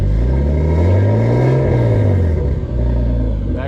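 A Volvo 740 with a swapped-in BMW engine and a muffler accelerates hard, its loud, close engine note rising in pitch and then easing off. The exhaust roar stays continuous and rumbling throughout.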